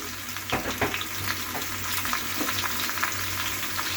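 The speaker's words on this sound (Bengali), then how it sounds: "এটিকে আমি নুন এবং হলুদ দিয়ে কষিয়ে নেব বেশ খানিকক্ষণের জন্য" Mango pieces sauté with salt and turmeric in a pan for pickle, giving a steady close sizzle with a few sharper spatters and stirring scrapes throughout.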